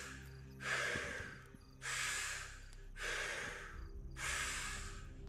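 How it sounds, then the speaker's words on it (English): Deep breaths during a breathwork exercise come in four long, even, airy strokes at a steady slow rhythm, close and fairly quiet with faint gaps between them and no talking. "Just keep that breathing circular."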